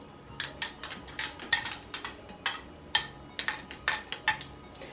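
A spoon clinks quickly against a glass or bowl while stirring instant dry yeast with sugar, producing a steady run of bright close taps and rattles.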